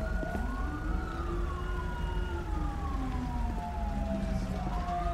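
Police sirens wail in the video game GTA 5, several overlapping tones sweeping up and down, loud and continuous over a low road rumble.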